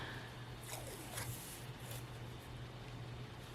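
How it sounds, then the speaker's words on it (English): Brown washi tape pulled off the roll and pressed down, a few short papery rips and a rustle over steady background hiss, close but quiet. "I think I want to go ahead and do, this washi tape, this brown washi tape."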